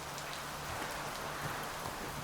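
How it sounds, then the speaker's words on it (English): Rain falling steadily in the dark fantasy game Sancticide, a soft, even, faint hiss with scattered drops and no talk. "It's always raining down here."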